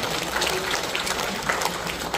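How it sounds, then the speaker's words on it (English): Steady applause from an audience greeting medical school graduates as they march in procession at a graduation ceremony, a continuous dense wash of clapping without pauses. "Let us greet everyone with a round of applause as they march in during the procession."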